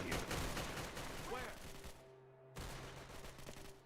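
Gunfire from the video game Fallout, a rapid burst of shots that starts loud and fades into quieter sporadic fire, with a voice briefly over it.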